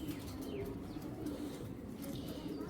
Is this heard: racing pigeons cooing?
yes